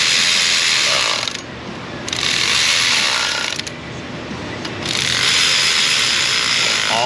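A ratchet clicks rapidly and loudly up close as bolts are tightened on a Chrysler 200 3.6 Pentastar engine, in long sustained runs with brief pauses between them.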